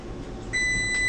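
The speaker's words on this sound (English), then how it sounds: "Turn that timer off." A kitchen oven timer sounds a steady electronic beep that starts partway through and holds on over low room noise, loud and close.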